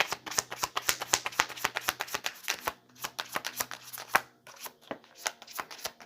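A deck of tarot cards is shuffled close up, giving fast riffling snaps in quick bursts, a brief pause, then more shuffling and drawing, with no voices.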